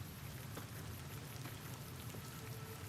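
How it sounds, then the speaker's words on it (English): Steady rainfall in the video game Fallout: New Vegas DLC, a soft continuous patter of drops on surfaces with a low rumbling bed beneath, faint and even throughout with no talking. "my mind was blown when the weather changed to rain without any mods"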